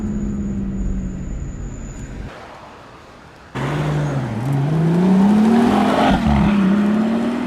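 Car engine echoing through the hills near the Pagani factory in Italy's Motor Valley, first a distant drone, then a sudden loud rise as the engine revs hard, with pitch sweeping up and down through gear changes.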